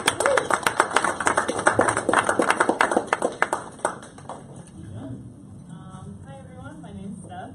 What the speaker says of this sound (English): join me and a big round of applause for Miss Steph